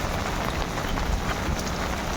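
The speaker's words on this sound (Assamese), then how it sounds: "বৰষুণ দি আছে" Steady rain pours down outdoors around company grounds near a road to a shop, a dense, even hiss of drops striking surfaces close by, with no voices.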